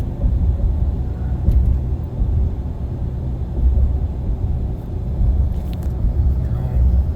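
A 2024 Ram HD 3500 with the Cummins engine, all-terrain tires and 20-inch rims, heard from inside the cab while driving as a steady low rumble of road and engine noise with no talking.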